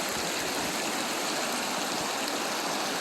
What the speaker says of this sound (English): with the drop here, that could be classified as another waterfall